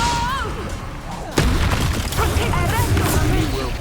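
Incendio fire spell cast in the Hogwarts Legacy video game, a sudden loud burst about a third of the way in, followed by sustained crackling, roaring effects and busy combat sounds, with game voices over the opening.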